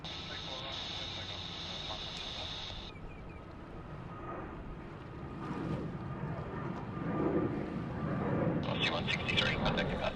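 An airplane taking off at Sydney Airport, heard as a distant, steady engine roar that builds slowly toward the end, with radio voices talking over it.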